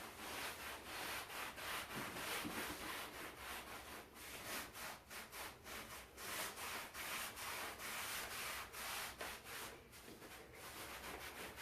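A rag rhythmically rubs back and forth over wood, wiping excess glue from a wooden box build, with a quiet, close, steady scrubbing stroke repeated many times.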